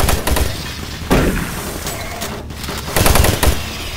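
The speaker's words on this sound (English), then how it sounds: "So the turrets are shooting at me." Automated turret guns firing in Doom 3, a dense rattling burst of gunfire that swells in waves, loud and close, with sharp surges near the start and again toward the end.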